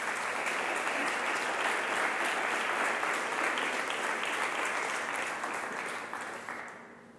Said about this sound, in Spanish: Dale un gran aplauso al Señor.